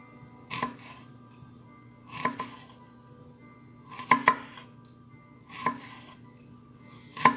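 A kitchen knife thinly slices a peeled shallot on a cutting board, about six separate sharp chopping knocks, some in quick pairs, spaced apart over quiet room background.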